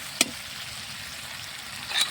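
Green chillies and chopped tomato hit hot oil in a pan for a meat curry, giving a soft steady sizzle with a brief clatter at the start and another near the end.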